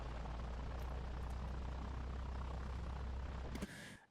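A small training airplane taxis out on a first solo flight, its steady engine drone loud and continuous before cutting down abruptly near the end.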